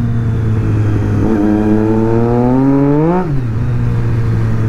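A Triumph Street Triple 675 motorcycle struggling for traction, its engine rising in a loud, close rev that climbs for about two seconds and then drops back to a steady idle.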